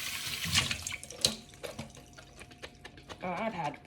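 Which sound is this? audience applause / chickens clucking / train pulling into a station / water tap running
water tap running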